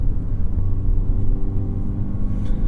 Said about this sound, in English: Accelerating like this, kind of up this hill, you do hear the motor starting to make a good amount of noise.